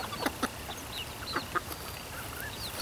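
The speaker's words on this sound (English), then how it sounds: "Too many roosters." Roosters and chickens clucking in short, scattered bursts, with a few brief calls over a steady, noisy outdoor background.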